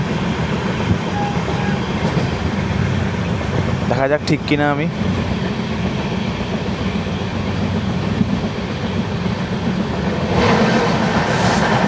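The Amrit Bharat Express, train 20604 between Nagercoil and NJP, runs on the rails with a continuous loud rumble and rhythmic clatter inside a packed coach, while a person speaks briefly partway through.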